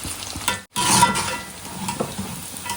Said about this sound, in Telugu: కాబట్టి గ్యాస్ మీడియం ఫ్లేమ్లో పెట్టుకొని మంచి కలర్ వచ్చేంత వరకు వేపుకోవాలండి